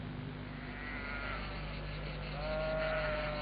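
Sheep bleating out on an open hillside, a few drawn-out calls rising over a steady low background hum, moderately distant and heard alone without talk.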